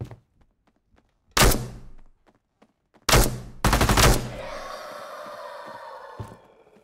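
Pistol shots ring out in Into the Radius 2, a single loud crack followed after a pause by a quick cluster of shots, each with a ringing tail, in an otherwise quiet scene.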